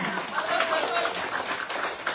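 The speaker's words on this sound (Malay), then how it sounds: "Beri tepukan." Crowd at a Perikatan Nasional campaign rally in Karambunai, Sabah breaks into steady applause and clapping, moderately loud and continuous, with voices mixed in throughout.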